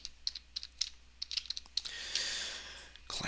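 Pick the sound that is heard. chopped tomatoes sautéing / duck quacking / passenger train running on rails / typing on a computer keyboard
typing on a computer keyboard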